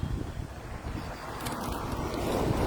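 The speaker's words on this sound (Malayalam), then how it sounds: "കാറ്റ് ശബ്ദമുണ്ട് കാറ്റിന്റെ. നല്ല കൊടുങ്കാറ്റ്." Strong stormy wind blowing outdoors through trees near a road, a loud continuous rushing roar with heavy gusts buffeting the microphone, swelling slightly toward the end, with no talking.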